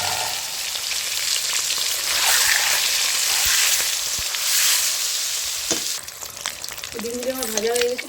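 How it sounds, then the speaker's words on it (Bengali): Several eggs fry together in hot oil, a loud, continuous crackling sizzle with bursts of spattering, and a brief voice joins near the end. "সবগুলো ডিম আমি একসঙ্গে ভেজে নেব।"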